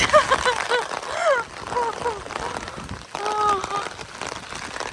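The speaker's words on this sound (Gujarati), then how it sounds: "અત્યારે જો પવન સાથે એકદમ વરસાદ ચાલુ થઈ ગયો છે" Heavy rain pours in a steady broadband wash, driven by strong wind, while a voice talks over it close by.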